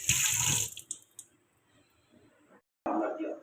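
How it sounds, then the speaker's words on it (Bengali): Tap water runs into a kitchen sink while dishes are washed at home, a loud rushing burst at the start, then near silence with faint clinks, then the flow gushing again at the end. "এই বাসন কটা ধুতে হবে"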